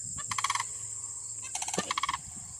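Two sandhill cranes calling back and forth in a pasture: two bursts of rapid, rattling, trumpeting calls separated by a short pause, at moderate distance over a steady background hiss.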